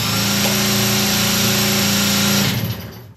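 A Piaggio Super Bravo moped is cranked with a battery because it has no kickstand. A loud, steady high-pitched motor whine holds for about two and a half seconds, then quickly fades out.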